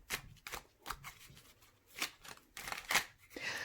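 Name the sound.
shuffling a deck of oracle cards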